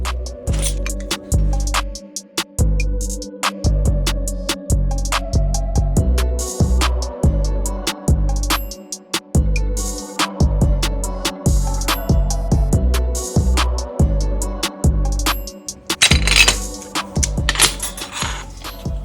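Metal being cut to make alignment bushings, heard as a long series of loud, sharp, repeated bursts of grinding and cutting in quick rhythmic succession with brief pauses between, close up and without talk.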